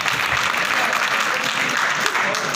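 Audience applause rolls on steadily throughout, a dense, loud clapping from a crowd at a political gathering, with a voice faintly underneath.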